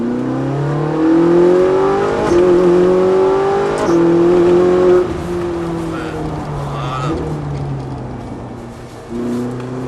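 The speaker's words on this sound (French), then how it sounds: "Et là on accélère progressivement." Ferrari 458 Italia accelerating gradually on the Montlhéry race circuit, its engine note rising steadily in pitch through the gears, heard from inside the car with someone talking over it.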